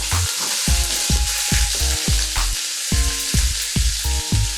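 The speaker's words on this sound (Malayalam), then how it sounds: "നമ്മുടെ ഓയിൽ നന്നായിട്ട് ചൂടായി വരുന്ന സമയത്ത് നമുക്ക് ഇഞ്ചി വെളുത്തുള്ളി പേസ്റ്റ് ഇതിലേക്ക് ഇട്ട് കൊടുക്കാം" Ginger garlic paste sizzles and crackles loudly in hot sunflower oil, with a steady frying hiss and repeated scraping stirs of a spoon against the pan, no voices.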